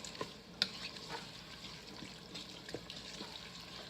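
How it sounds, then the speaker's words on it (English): Corn and chili chowder with frozen corn being stirred in an Instant Pot, soft wet scraping and sloshing with a few light clinks against the pot, quiet and close. "Give that a stir."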